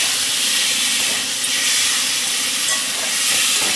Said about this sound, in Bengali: রসুন কেটে করে কষানো হচ্ছে।